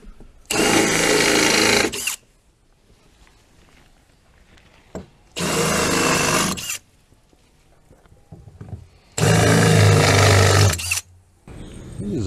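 A power drill drives self-tapping screws into copper roof gutter hooks in three loud, whining bursts of about one and a half seconds each, separated by near-silent pauses.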